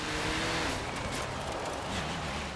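An S1 class car in the racing video game K74 Rivals roars steadily along a rocky cliffside course, its engine a constant dense drone with slight pitch shifts as the gears change.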